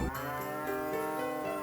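Cow moo from a farming score game with a timer, one long loud harmonic bellow holding steady for about a second and a half with no talk over it.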